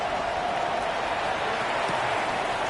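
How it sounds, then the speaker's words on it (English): A packed football stadium crowd roars after a field goal, a dense, steady wash of cheering and applause that holds at an even level throughout without a break. "Not quite the same roar out of the crowd, Kate, that you're going to get with a touchdown, but still plenty of noise coming down"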